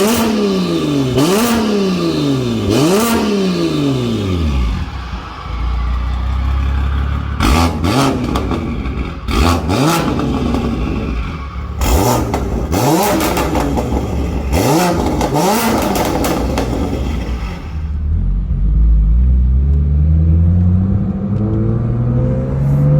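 BMW M4 GTS with S55 engine and Dinan muffler exhaust revving hard in repeated loud sweeping bursts, each rising and falling with crackles between, close and alone.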